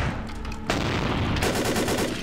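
Gunfire in Vampire: The Masquerade Bloodlines, with shotguns in the fight: a sustained burst of loud, dense shots runs through the whole moment, growing heavier partway in and continuing without a break.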